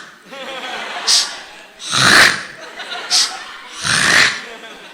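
A voice imitates snoring, with two long, loud rasping inhaled snores, each followed by a shorter snort, in a slow, regular rhythm with no other sound.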